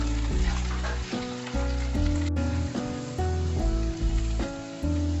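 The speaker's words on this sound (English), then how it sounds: "300 grams sliced okra and stir fry under medium flame for 5 minutes" Sliced okra, about 300 grams, stir-fried in a pan over a medium flame, giving a steady, close sizzle with bursts of stirring and scraping at a regular pace, and no talking.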